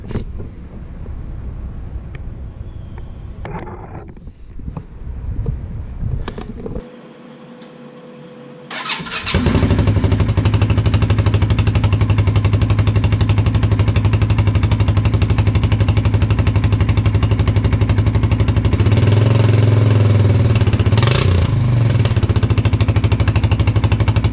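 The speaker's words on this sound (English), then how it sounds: "Polaris exhaust mod." A Polaris UTV engine with a modified exhaust idles low, then roars loudly into a steady, throaty rumble that runs on continuously with a brief revving swell near the end.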